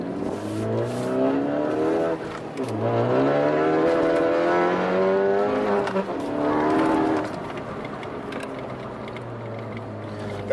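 A 2015 Ford Focus ST with a straight-pipe exhaust cutout revs loudly and up close, its engine note climbing and falling through several throttle blips over a steady idle.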